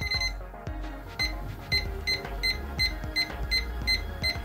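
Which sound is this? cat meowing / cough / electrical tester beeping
electrical tester beeping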